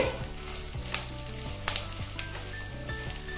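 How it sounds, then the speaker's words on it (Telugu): Steady hissing sizzle of curry leaves frying in hot oil, with a few sharp crackles and pops over the continuous bubbling. "కొంచెం కరివేపాకు. ఇవి దోరగా వేగనివ్వాలి."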